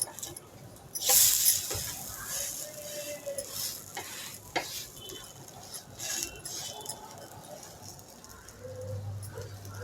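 Rava uttapam cooks on an oiled pan, giving a soft, steady sizzle with a sharp crackling burst as oil is poured in near the start and light metallic scrapes and clinks after it.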